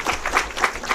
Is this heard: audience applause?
yes